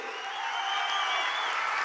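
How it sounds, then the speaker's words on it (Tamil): A full hall audience at a political conference applauds steadily, with a dense, even wash of clapping. The sound is moderately quiet and holds for the whole moment. "ஒரு அரங்கம் நிறைந்த மாபெரும் கைத்தட்டலுக்கு நடுவே"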